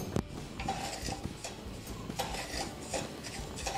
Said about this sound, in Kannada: ರವೆ ಹಾಕಿ ಹುರ್ಕೊಳ್ಳೋಣ ರೀ.